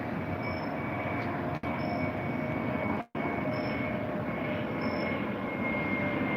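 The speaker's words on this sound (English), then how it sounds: "well, there's a plane." A fixed-wing airplane passes overhead as a steady broadband engine roar, continuous and fairly loud throughout with a faint high whine, briefly interrupted by two short dropouts.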